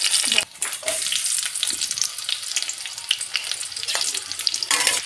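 Bay leaves tempering in hot ghee and oil in a wok for mutton biryani, giving a steady, close, bright sizzle with crackling pops that runs the whole time with no talking.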